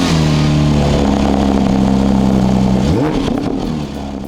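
A Porsche 992 GT3 with the Manthey package accelerates hard on the road, its engine roaring loudly and rising in pitch before a sudden shift and easing off, close with no talk.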